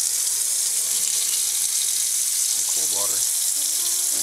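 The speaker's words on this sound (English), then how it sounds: "First I put it in this colander so we can wash it over here at the sink." Cold tap water runs steadily into a colander of spinach at a kitchen sink, a loud continuous splashing hiss with a brief clatter partway through.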